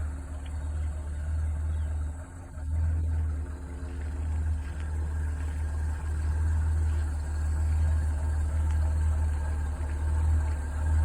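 A 1986 Ford Econoline van engine with manual overdrive transmission idling steadily, a low, even rumble with a faint hum above it, heard close and alone.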